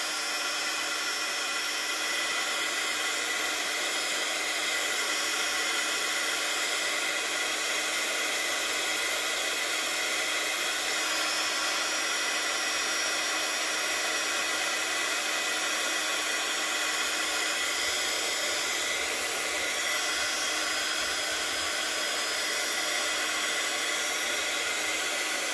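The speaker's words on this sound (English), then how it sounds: "take your heat gun and dry it off" A heat gun blasts hot air to dry shimmer powder on a handmade card, a steady loud roaring whoosh running unbroken from start to finish with no talking.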